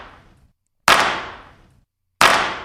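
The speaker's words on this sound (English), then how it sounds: "So right underneath that, we also have some claps happening" Layered clap samples in a music track: two sharp, bright, noisy bursts roughly 1.3 seconds apart, each decaying over about a second, loud and dry with no voice over them.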